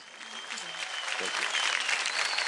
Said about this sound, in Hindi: और जोरदार तालियां हो जाए